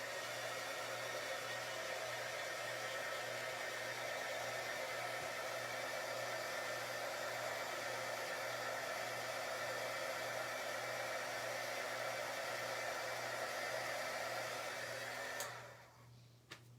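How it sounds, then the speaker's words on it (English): A heat embosser blows hot air over chalk transfer crafting, a loud, steady whirring hiss running nonstop before switching off near the end. "I'm gonna use a heat embosser"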